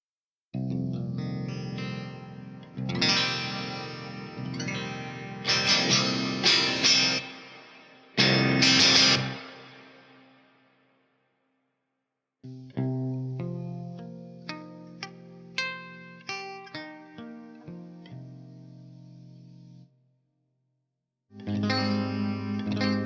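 Electric guitar fitted with homemade printed-circuit-board pickups, played through effects: chorus-like, distorted chords and single notes ring out in loud phrases with brief silent gaps between them and no talking.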